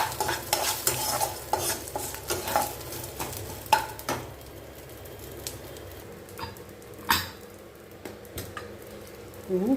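Sautéed ingredients are stirred into coriander rice in a pan. A spoon scrapes and taps rhythmically at first, then slows, over a soft background sizzle, with no voices.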